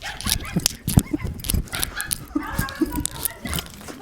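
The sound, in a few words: dog barking and whimpering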